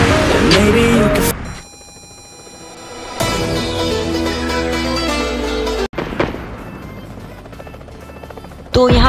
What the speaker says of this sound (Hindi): यहाँ पर आरडी गेमर के पीछे एक हेलीकॉप्टर पड़ते हुए